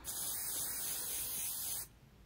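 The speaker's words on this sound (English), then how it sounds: "now that it's all cleaned up, we are going to spray the back of this." Spray adhesive hisses from a can onto the back of embroidered name tags, one steady close burst of nearly two seconds that cuts off abruptly into quiet.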